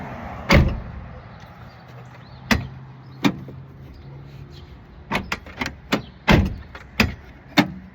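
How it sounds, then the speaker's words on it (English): A just-repaired rear door on a Ford F350 extended cab opens and shuts in a string of sharp latch clunks and solid thuds, some single and some in quick bursts, with a low idle-like hum between them. "Door functions as it should now."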